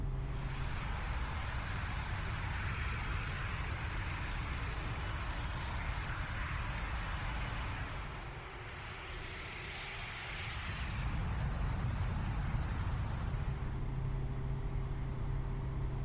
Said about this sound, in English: we're taking off again here at Ramat David Air Base